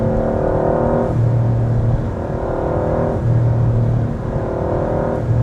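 A Porsche 911 Turbo pulls hard under acceleration, engine tone rising and dropping in repeated surges as it revs through gears, heard from inside the cabin with a constant road roar underneath.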